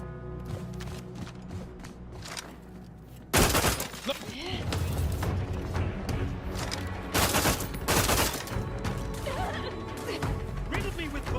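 Gunfire in The Outer Worlds 2 video game during a boss fight, heavy repeated bursts and crashing impacts under a talking voice and game effects.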